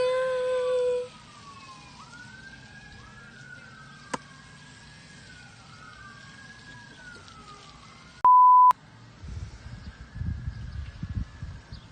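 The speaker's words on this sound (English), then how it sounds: "Of course there are sirens. Why wouldn't there be sirens?" A wailing siren rises and falls repeatedly at a distance, with a brief steady tone and some rustling noise toward the end.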